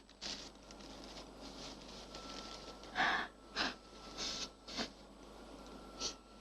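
Several short, breathy bursts of nose blowing and sniffing, close and irregular, with quiet pauses between them.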